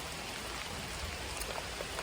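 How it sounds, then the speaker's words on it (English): Steady rain falls on a morning campsite, a dense, even hiss of drops pattering close by with no voices and no breaks in the downpour. "today is starting out much like yesterday, with a good healthy dose of rain."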